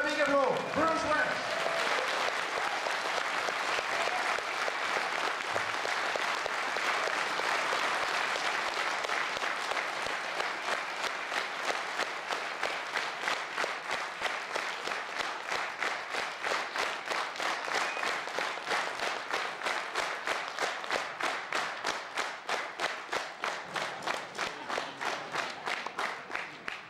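Audience applause at the Shadows festival in 2001 welcoming Bruce Welch to the stage, a dense, loud, sustained ovation that settles into rhythmic, even clapping as it goes on.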